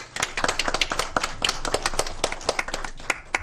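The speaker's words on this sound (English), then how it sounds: "Let's give her a round of applause." Audience at a school board special meeting claps in a brisk round of applause, individual hand claps clearly distinct and moderately close, with no talking over them.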